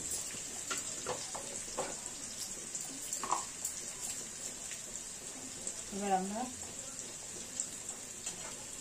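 Browned potatoes frying with a paste of ginger, garlic, onion, turmeric and chilli powder give a soft sizzle under intermittent stirring scrapes, with brief clatters and a short whooshing burst partway through.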